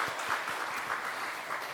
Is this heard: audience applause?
yes